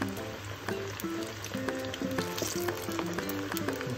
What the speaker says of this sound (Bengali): বড় বড় পকোড়া আস্তে আস্তে তেলে যাচ্ছে।